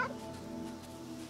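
A cat meows in the video game Kentucky Route Zero, a single drawn-out call at the start fading into a steady tonal game ambience, with no talking.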